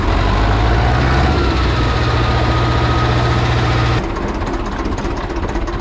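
An Italian farm tractor sits idling at its starting spot, a loud, steady diesel rumble with a low throbbing hum, until the engine note drops and softens near the end. No one speaks.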